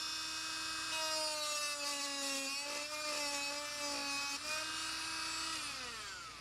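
A spinning paper cutting wheel slices through a 1/4 inch acrylic rod with a steady high whine that dips and shifts in pitch as it bites, loud and close throughout.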